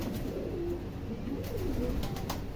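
Pigeons drinking water on a rooftop give soft repeated coos, close and clear, over a steady low background hum.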